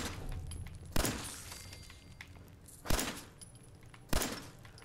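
Gunfire in the Fallout 4 video game, three separate sharp shots spaced a second or two apart over a quiet background.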